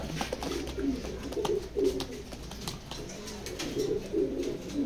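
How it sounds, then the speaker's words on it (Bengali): Racing Maxi pigeons, high-range birds, give repeated low burbling coos near at hand, in rhythmic bursts over a faint background with an occasional rustle. "এগুলা হাই রেঞ্জের কবুতর"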